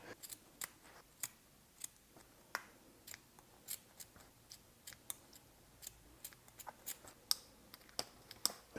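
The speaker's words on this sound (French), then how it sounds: "je vais découper là, là et là" Scissors snipping through old upholstery on a Peugeot 205 GTI car seat during restoration, a steady series of short, sharp, close cuts at an irregular rhythm with no talking.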